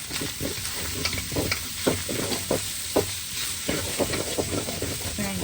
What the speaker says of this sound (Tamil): இஞ்சி பேஸ்ட்டும் வெங்காயமும் வதங்கட்டும்